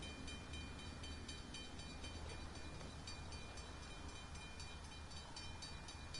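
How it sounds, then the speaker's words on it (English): Train passing in the video game Train Sim World 4, a faint, steady rumble of rolling wagons with a constant mechanical hum and no talk. "Here comes the other train."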